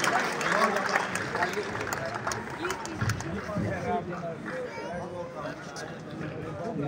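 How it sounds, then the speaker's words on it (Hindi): An audience at a festival gathering breaks into loud applause after a recited poem, a dense, sustained roar of clapping with voices mixed in, gradually easing toward the end. "एक बार जोरदार तालियां।"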